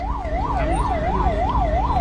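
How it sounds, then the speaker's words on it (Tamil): An ambulance siren wailing in a regular rising and falling cycle, about six sweeps, loud and steady over low traffic rumble with no speech. "அதனால ஆம்புலன்ஸ் வருதா?"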